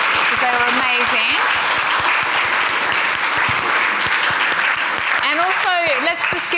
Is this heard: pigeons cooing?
no